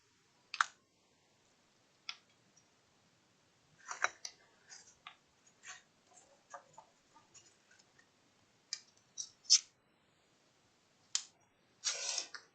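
Double-sided tape being cut and pressed down for a pop-up album, heard as sparse quiet clicks and crisp snips scattered over about twelve seconds with a brief rustle near the end, no talk.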